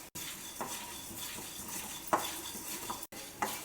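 Dals and spices dry roasting in a pan for a traditional South Indian kuzhambu masala, with close scraping and stirring of a utensil against the pan, a few sharper clinks, and no talk.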